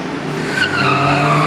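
Speedway stock car on a dirt track spinning in a first-corner crash, with loud, steady engine roar and tire skidding that sustains throughout, up close.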